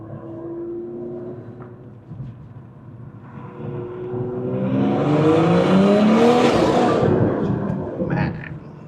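A BMW M340i Stage 2 in Sports Plus mode heard from inside the cabin, its engine droning steadily then building into a louder rising rev before easing back.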